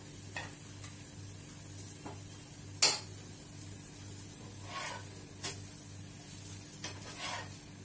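Dosa batter cooking on a tawa griddle that is not yet fully hot, giving a soft, steady sizzle broken by occasional light scrapes and clinks of a utensil against the pan.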